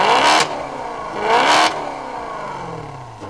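A Maserati Quattroporte engine set to sport mode blips twice close up, each rev a short sharp surge that drops back to a burbling idle.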